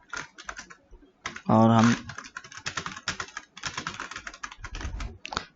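Fast typing of JavaScript code on a computer keyboard, a close, busy run of clicking keystrokes with a brief loud bump near the start, while someone speaks a few words over it.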